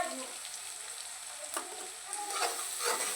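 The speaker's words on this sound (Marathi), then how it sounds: "हळदीला पण छान असं तळू द्यायचं" Turmeric sizzles in hot oil with garlic paste while a spoon stirs it. The frying crackles softly and steadily, with a few scraping stir sounds.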